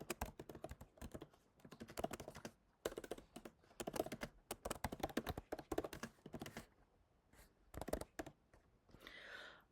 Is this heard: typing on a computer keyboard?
yes